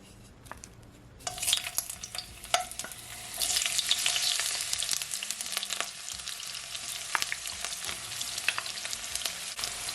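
Chopped onion dropped into a hot pot of olive oil, bursting into a loud close sizzle after a quiet start, with crackling and stirring scrapes continuing steadily, no talking.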